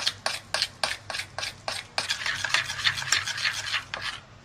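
Banana pancake batter whisked in a bowl, a utensil knocking against the sides in a steady, rapid rhythm of close, distinct strokes that speed into continuous scraping toward the end.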